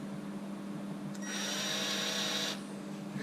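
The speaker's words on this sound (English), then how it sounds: "Then this kind of drill comes in handy." A right-angle drill with a 90-degree bend, used to bore a hole in a tight space, gives a short, high-pitched whirring burst of about a second over steady background hum.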